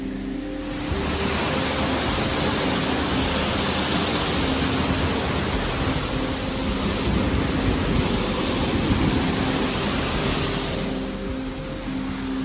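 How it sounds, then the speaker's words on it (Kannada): Pahine Falls near Nashik, Maharashtra pours in a steady, broad roar of rushing water, loud and continuous with no voices over it. "ಮಹಾರಾಷ್ಟ್ರದಲ್ಲಿ ಫಸ್ಟ್ ಫಾಲ್ಸ್ ನೋಡಿದ್ದು ಪೆಹನೆ ಫಾಲ್ಸ್ ಇದೆ."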